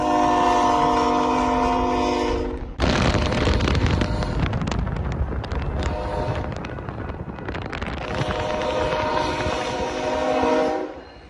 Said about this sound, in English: BNSF 1507 and XBN GP28M, and BNSF 2265, a EMD GP38-2 painted in the Heritage 1 pumpkin paint scheme.